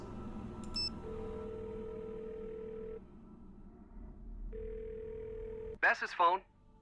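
In the Nancy Drew game Ghost of Thornton Hall, a phone rings out with a steady calling tone in two long pulses separated by a pause, followed by a brief voice at the end.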